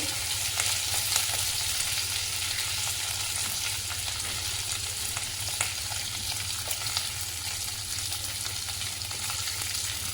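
Curry leaves and slit green chilies sizzling steadily in hot oil, a loud continuous frying hiss with faint crackles, heard alone and close.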